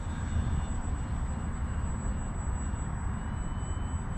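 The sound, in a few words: RC plane engine doing a flyby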